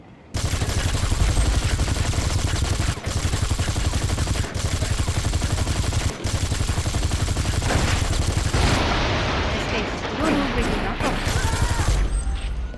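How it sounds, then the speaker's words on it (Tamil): Long, dense crackling barrage of firecrackers exploding nonstop, loud and close, with a few sharper bangs and a shift in texture toward the end. "ஸோ இதுவும் வெடிச்சு."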